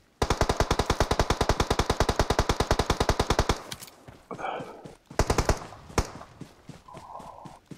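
Rapid automatic gunfire in the PUBG Mobile video game, a loud close burst of about forty evenly spaced shots for three seconds, then quieter pauses and a few scattered shots.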